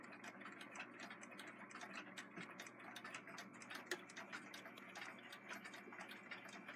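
Westclox nickel-cased alarm clock ticking steadily at close range, a fast, even train of sharp ticks running throughout with faint mechanical hum beneath and no voices.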